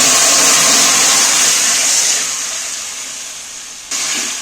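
Fried onion tempering poured into a koi fish curry with mixed vegetables gives a loud, steady sizzle and hiss that eases off, then surges briefly again near the end.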